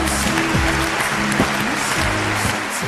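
Applause from a studio audience on a televised dating show as a couple is matched, a steady wash of clapping under background music tones, moderately loud and continuous.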